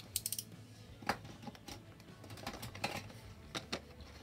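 A razor blade slices through the cardboard and tape of a Lego Brickheadz 40380 set box, giving a series of short, crisp scraping and snapping clicks with gaps between them, fairly close and quiet, with no talk over it.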